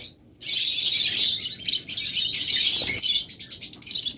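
A pair of orange-head opaline red-eye pet birds chirp continuously and loudly up close, with dense, busy high-pitched tweeting from a caged group filling the whole stretch after a brief quiet start.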